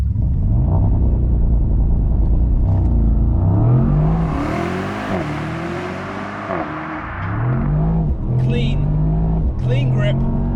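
A Mercedes-AMG SL55 launching hard in Sport Plus mode, its engine roaring up through the revs in a loud, close, rising surge with audible gear changes, then settling into a steady drone as it pulls away.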